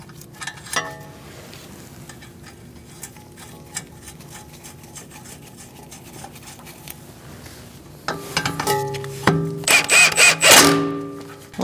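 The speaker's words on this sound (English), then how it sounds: "I'm going to snug this up and torque it to 36 foot-pounds." A wrench snugs up a castle nut on a 2002-2006 Toyota Camry front steering knuckle with scattered metallic clicks and scrapes, then a burst of louder ratcheting and clanking near the end.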